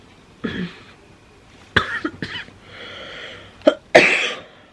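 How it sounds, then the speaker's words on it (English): A handful of short, sharp coughs close by, spaced irregularly with quiet breathy pauses between them. "oh, tickle of a cough."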